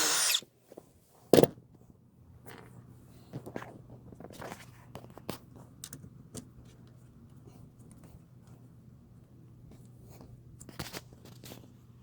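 A power drill drives bolts into under-deck storage drawers, with several short bursts standing out against a quiet background and scattered handling knocks between them.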